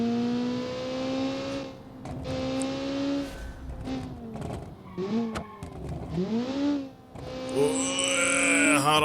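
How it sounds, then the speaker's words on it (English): A Group B rally Lancia race car in BeamNG.drive brakes hard into a corner, its loud engine note dropping through downshifts with sharp blips, then climbing again as it powers out, alone and close. "So we'll hit the brakes. Hit the brakes hard. Let's go through the corner."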